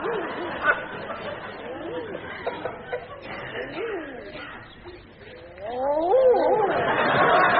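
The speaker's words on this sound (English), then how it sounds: "Now we come to that rare moment when we hear from a bird for Frank Muir." A pair of birds call back and forth in a recorded cooing exchange, repeated rising and falling calls spread through the clip, with some chatter underneath and a busier burst of calls toward the end.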